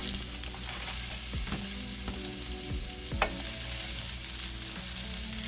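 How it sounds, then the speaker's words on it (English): Vegetables sizzle and fry in a little oil in a 350-degree skillet, a steady dense crackle with a few scraping stirs of a utensil. "I'm gonna add my vegetables to it first."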